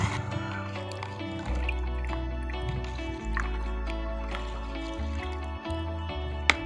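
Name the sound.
pomegranate peels stirred in water to make fertilizer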